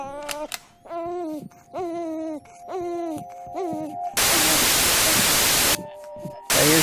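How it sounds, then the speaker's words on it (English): Harsh, loud static noise from a flash horror game bursts in for under two seconds and returns briefly at the end, after a series of groaning tones. "I hear static."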